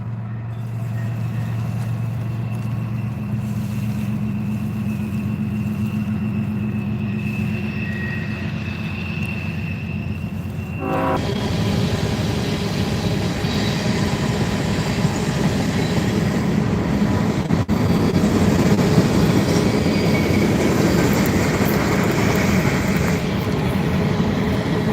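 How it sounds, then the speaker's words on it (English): A very slow freight train rolls past, first as a low sustained tone with a high squeal, then a louder, close, continuous rumble and rattle of wagons that builds and keeps going. "This is like the slowest train ever."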